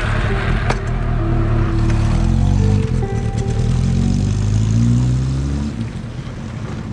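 A Honda CB400 four-cylinder motorcycle engine running nearby, loud and steady with rising and falling revs, its pitch climbing and then easing off toward the end.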